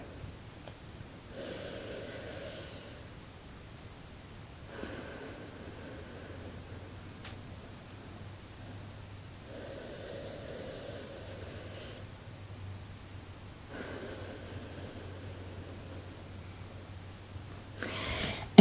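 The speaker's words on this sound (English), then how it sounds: "2 sets of controlled breathing" Controlled yoga breathing, four long slow breath cycles of airy inhales and exhales through the nose, evenly spaced with short pauses, fairly close and soft, with no talking.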